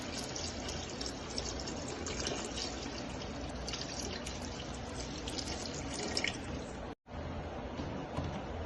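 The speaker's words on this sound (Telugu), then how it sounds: "ఈ వాటర్ వేసుకొని మనం మరిగించాలండి." Water pours continuously into a cooking pot holding four glasses of rice, about eight glasses' worth in a steady splashing stream that briefly cuts out near the end and then resumes.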